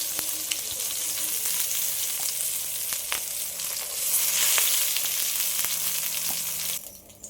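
Prawns wrapped in a pumpkin leaf frying in oil over medium heat after being turned, giving a close, steady sizzle with a few light taps, fading near the end.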